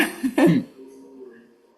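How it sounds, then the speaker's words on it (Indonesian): A single harsh cough, a short double burst, close by, followed by a brief trailing hum. "Batuk"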